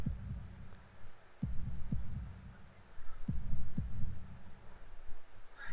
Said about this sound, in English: attempt to hear my heartbeat